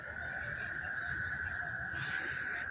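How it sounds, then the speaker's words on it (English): Frogs calling in a Corpus Christi, Texas backyard garden of fruit trees after heavy tropical rain, a dense steady chorus of continuous trilling croaks at moderate distance, filling the whole stretch without talk. "The frogs, man, the frogs."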